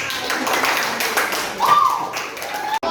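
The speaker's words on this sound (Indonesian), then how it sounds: "kita berikan tepuk tangan untuk teman kita yang sudah mempersatukan" Classroom pupils clap together for a classmate during a primary-school culture lesson, a dense patter of small hands that carries under a teacher's voice before cutting off near the end.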